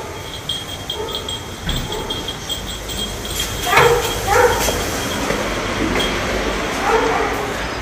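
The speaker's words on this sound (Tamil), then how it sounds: "இங்கே ஏதோ நாய் குலைச்சிட்ருக்கு" A dog barks and yips several times at a distance over a noisy rainy-day background in Bangalore, with a rumbling, train-like hum underneath.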